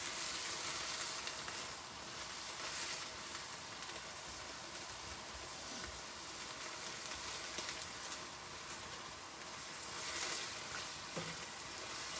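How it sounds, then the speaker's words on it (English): A spicy sesame noodle and ginger chicken mixture sizzles in a hot pan while being stirred, a soft, continuous crackling hiss with faint scraping, fairly quiet and without speech. "we're just stirring this all together"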